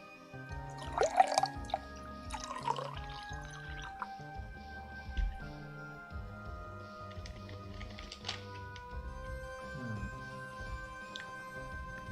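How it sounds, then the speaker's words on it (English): Faint water drips and trickles play as a sound effect in an Unreal Engine multiplayer game, with scattered soft taps and sustained tones underneath. "Water sound."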